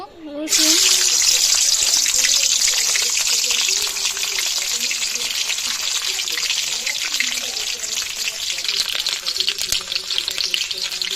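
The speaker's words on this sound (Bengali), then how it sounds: "এই যে তেলটা গরম হয়ে গেছে আমি এই তেলে দিয়ে দিব কয়েকটা গোটা গোটা রসুন রাখছি সেই রসুন দিয়ে দিব" Whole garlic cloves drop into hot oil and fry with a loud, steady sizzle that starts abruptly and keeps crackling close up, with a voice talking faintly beneath it.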